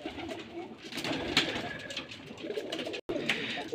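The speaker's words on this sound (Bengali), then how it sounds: "এটা কি কবুতর? রাজশাহী গিরিবাজ না?" Rajshahi Giribaz pigeons kept in a loft coo softly and repeatedly, with several birds calling close by over low background noise.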